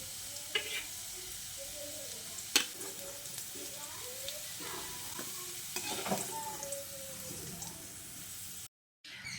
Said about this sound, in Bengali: ওই তেলের মধ্যে দিয়ে দিচ্ছি একটা তেজপাতা, একটা শুকনো লঙ্কাকে ফাটিয়ে দিয়ে দিচ্ছি আর দিয়ে দিচ্ছি অল্প একটু গোটা জিরে।